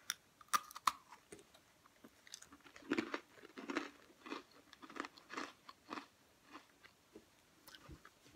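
A Party Ring cookie is bitten and crunched up close, with a sharp crack followed by a steady run of crisp chewing crunches and no talking.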